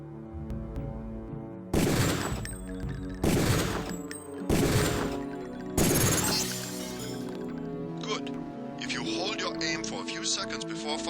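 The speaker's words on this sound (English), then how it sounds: "Release the first target and take a few shots with one of the pistols until it is destroyed." Pistol shots at a shooting-range target in Deus Ex: four loud, sharp cracks spaced about a second and a half apart over a steady musical drone, followed by fainter metallic clinks and debris.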